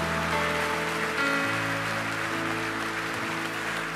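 A church congregation applauds during a sermon service, a broad rain-like wash of clapping spread evenly across the room over sustained musical tones.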